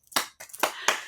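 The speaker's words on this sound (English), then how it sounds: "I end up clapping somehow" Four sharp hand claps in an uneven rhythm, close and fairly loud, with no other sound around them.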